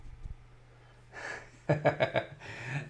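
A pet sniffs right at a microphone in a few close, quick snuffling bursts, with soft breathy intakes in the quiet before them.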